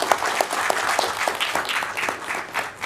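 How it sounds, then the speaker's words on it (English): Applause from the audience at a city council meeting, a short burst of many hands clapping close by that thins out toward the end. "A big round of applause."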